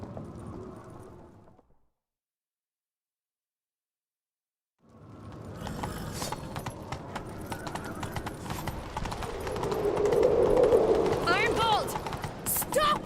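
Horse hooves gallop in The Witcher 3 on Skellige, a rapid clip-clop rhythm that starts after a brief silence and builds louder, with a short whinny near the end and a voice speaking at the start.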